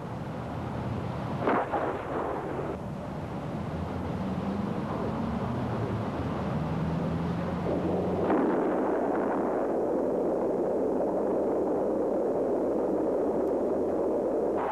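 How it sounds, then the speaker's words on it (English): A military missile launch: a rapid-burn first-stage motor kicks it from its tube, then the cruise motor ignites with a sustained roaring rush that builds and holds loud through the end, with no voices. "The rapid burn first stage motor propels the missile from its tube. At a safe distance from the launcher, the cruise motor fires."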